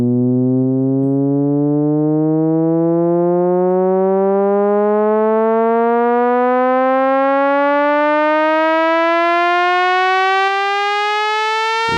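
A smooth synth sweep climbs steadily in pitch for about twelve seconds, a bright buzzy tone that stays loud throughout, with no other sounds.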